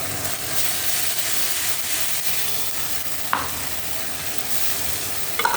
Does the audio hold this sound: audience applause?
no